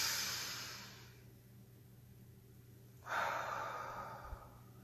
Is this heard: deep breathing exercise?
yes